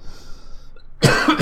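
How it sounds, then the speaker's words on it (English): A man with a cold coughs sharply twice in close succession, loud and near, after a quiet stretch of faint game background sound. "Excuse my coughing, still full of cold."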